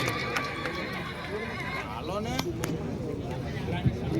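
A mare whinnies loudly in a long, wavering call at a village fair horse race, with hoof clops and a murmuring crowd in the background.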